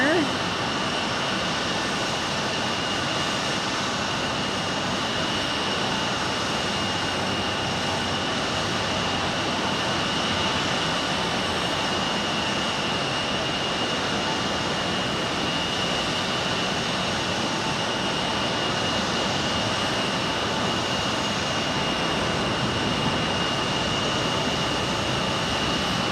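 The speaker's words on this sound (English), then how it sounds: "we got a Southwest Airlines arriving here" A Southwest Airlines jet arrives at Phoenix Sky Harbor Airport, its engines a steady, distant broadband roar that holds throughout, with people talking faintly underneath.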